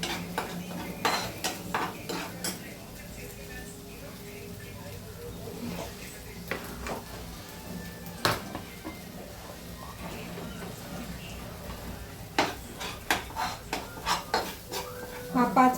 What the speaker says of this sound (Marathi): लसूण, आलं, असा छान परतू घ्यायचा हा मसाला.